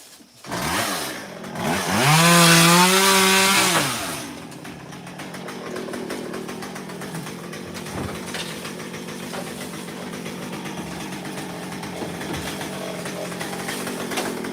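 A chainsaw cutting bamboo revs hard to a loud whining roar, then settles into a steady buzzing drone as it keeps cutting, close by.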